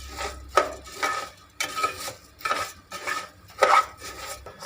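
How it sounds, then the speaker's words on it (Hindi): A spoon scrapes and stirs curry in a pot with a steady rhythm, about one close, gritty swish every half second to second, with nothing else audible. "चम्मच इस तरह हिलाते रहे।"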